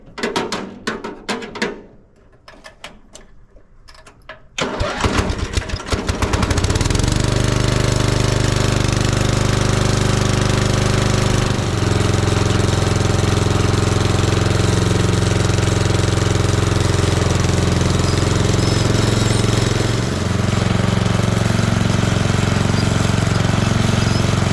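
A Roper ride-on lawn mower found in a barn cranks with a few rattling clicks, then catches around five seconds in and roars into a loud, steady, throbbing engine run that continues close by without speech.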